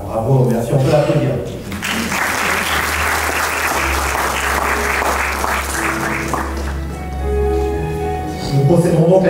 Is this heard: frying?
no